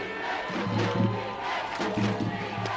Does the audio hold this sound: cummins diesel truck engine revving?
no